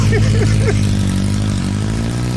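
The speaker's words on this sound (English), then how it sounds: "When that engine started, all the tension left his body." Motorcycle engine in an audio drama scene, a steady low droning rumble with harmonic hum throughout, as though riding off; a brief voice-like whoop sits over the start.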